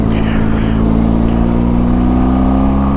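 A Benelli TRK 502 X adventure motorcycle engine chugs steadily at low revs around 30 mph in fourth gear, a loud, even, deep drone with no revving swings, close up and unbroken.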